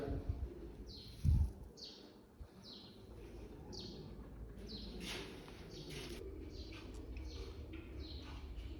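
Pigeons kept in a loft, with repeated faint chirps and soft calls recurring throughout, a brief fluttering thump near the start, and low rustling background.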